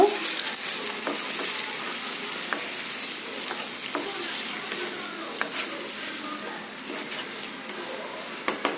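Salt and a quarter teaspoon of turmeric stirred into potatoes cooking for a potato tomato curry, with scraping spoon strokes against the pan over a steady close sizzle and no voices.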